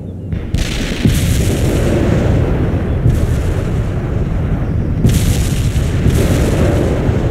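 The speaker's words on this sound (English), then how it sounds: "They're under fire!" Heavy artillery fire and explosions in a war video game, booming blasts at about 0.5, 3 and 5 seconds over a continuous loud low rumble of battle.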